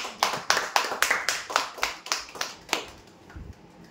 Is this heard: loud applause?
yes